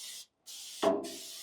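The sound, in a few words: spraying PAM cooking spray inside pellet smoker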